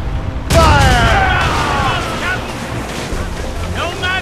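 Ship cannons fire in a naval battle in the video game Assassin's Creed Rogue, a loud booming blast followed by rumbling and wind noise, with shouted voices over the din.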